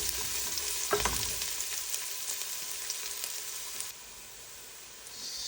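Garlic sizzles and crackles in a hot pan, a steady broadband frying hiss with a stirring clatter near the start, then quieter sizzling before it swells again at the end.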